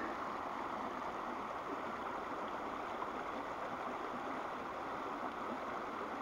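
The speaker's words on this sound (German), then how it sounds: "Das Wasser wird nochmal mit Sauerstoff angereichert." A stream of water pours steadily down a natural stone bed below the Aabach dam, a continuous broadband rush that holds level and fairly close throughout with no voices.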